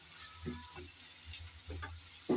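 Shrimp and onions frying in a pan, a soft steady sizzle with intermittent stirring clatters and a brief louder scrape at the end, fairly quiet and close.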